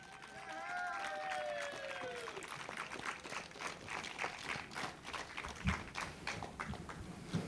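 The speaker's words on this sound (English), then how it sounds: "Huge round of applause for the 95 DHR, Kai Hunter." A crowd claps in a steady patter that carries on throughout, with a voice speaking over the start, at a British Kart Championship Senior Rotax final at Warden Law.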